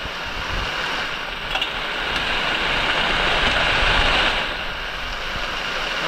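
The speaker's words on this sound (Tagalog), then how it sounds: "Walang balak siya itong tumigil ng ulan to." Heavy rain pouring at night out on the open sea around a fishing boat, a dense continuous hiss with wind buffeting the microphone, swelling briefly in the middle.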